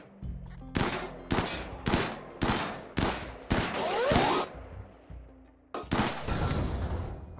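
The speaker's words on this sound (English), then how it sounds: "just shoot out of that solar panel" Bursts of gunfire in the colony game RimWorld, aimed at a solar panel: about seven loud, sharp volleys in rapid rhythm, each ringing out briefly, with short gaps between and no speech.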